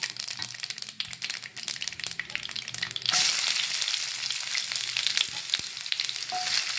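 Shallots sizzling in hot oil with dried red chillies for a banana flower and lentil thoran, a steady crackling fry with occasional stirring scrapes that grows denser and louder partway through.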